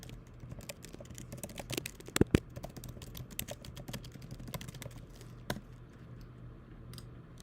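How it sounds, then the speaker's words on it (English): Typing on a MacBook Air M1 keyboard: quiet, close, irregular key clicks in quick bursts, with a couple of sharper taps, no talking. "sounds like you're typing with purpose"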